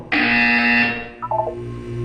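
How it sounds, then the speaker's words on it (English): Buzzer in the video game Portal 2, one loud flat electronic buzz of about a second followed by a short stuttering tone, with a soft hum underneath. "When you hear the buzzer, look down at the floor."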